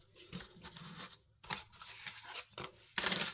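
Paper background shapes cut from die-cut sheets with scissors, giving several short crisp snipping and tearing bursts close by, separated by brief pauses, with a louder final cut.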